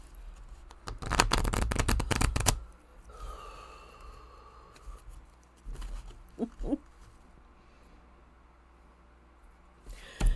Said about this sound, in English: So let me do a fresh shuffle here.